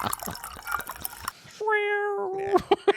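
A cat gives a single drawn-out, steady-pitched meow of under a second, right after a stretch of busy, voice-like noise, and a few short sharp sounds follow it.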